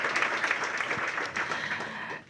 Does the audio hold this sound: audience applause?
yes